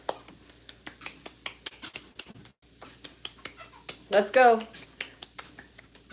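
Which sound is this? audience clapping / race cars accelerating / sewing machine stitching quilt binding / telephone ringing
audience clapping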